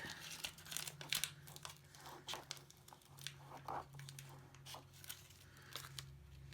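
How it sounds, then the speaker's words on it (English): Transfer tape crinkles and tears as a small piece is handled and peeled, with quiet irregular crackles and a few sharper rips close up, over a low steady hum. "Grab my little piece of transfer tape."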